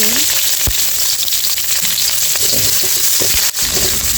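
Onions frying in a pan for Old Dhaka-style biryani: a loud, close, steady sizzle with scattered stirring clicks and one sharp knock near the end, with no talking.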